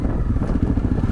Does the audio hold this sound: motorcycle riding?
yes